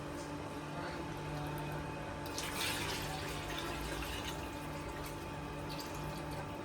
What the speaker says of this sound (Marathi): वरून पाणी टाकायचं.